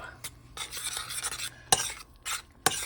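Raw honey and goji berries are stirred in a pan, giving close scraping swirls with a couple of sharp clinks of spoon against metal and a faint sizzle underneath.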